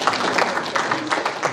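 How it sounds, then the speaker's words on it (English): Conference audience clapping in a hall, a dense, steady patter of many hands at moderate volume with no voices over it. "And this is where we clap, by the way."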